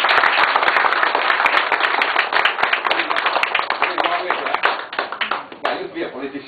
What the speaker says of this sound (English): A big applause for us.